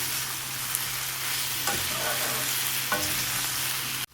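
Ridge gourd sautéing in a pan with oil: a continuous close sizzle with a couple of soft spatula scrapes, ending abruptly.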